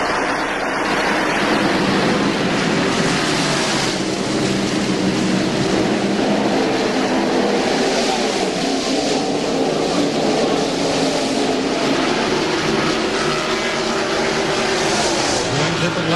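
NASCAR stock cars roar around the track at the 1999 TranSouth Financial 400, a dense, steady engine drone that swells and fades slightly as the field passes, loud and continuous throughout.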